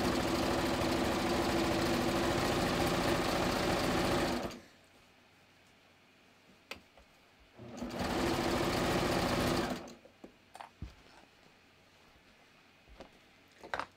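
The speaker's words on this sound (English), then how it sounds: "I'm just going to carefully work down as I go, and I'm making sure the edges are not curled as I stitch." Sewing machine stitching along the curled edge of a bathrobe, two loud continuous runs of about four and two seconds with a quiet pause between, then faint handling clicks and rustles.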